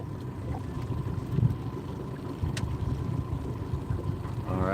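A boat engine runs steadily on Lake Iamonia in Florida, a continuous low rumble on open water with wind buffeting the microphone and a brief rise in pitch at the very end.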